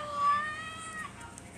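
A short cat meow, faint and somewhat thin, rises and falls within about a second against a quiet background with no speech over it.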